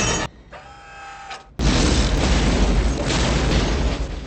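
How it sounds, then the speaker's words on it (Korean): A ship exploding in a science-fiction film: a brief quiet stretch, then a sudden loud boom that swells into a sustained roaring rumble lasting several seconds. "배가 폭발하며 로봇은 파괴되고 맙니다."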